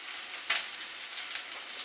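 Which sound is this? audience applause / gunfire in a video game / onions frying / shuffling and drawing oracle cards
onions frying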